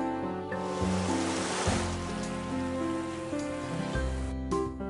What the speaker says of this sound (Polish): Jakie duże fale!